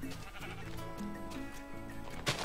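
A Minecraft sheep bleats repeatedly in short, wavering calls, fairly faint and set against a steady background of game music.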